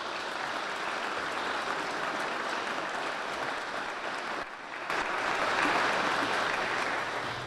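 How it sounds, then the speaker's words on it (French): Spontaneous applause from a church congregation during an acolyte ministry rite, a steady, continuous wash of many hands clapping throughout, briefly dipping before swelling again slightly louder. "Vos applaudissements spontanés m'apportent une réponse."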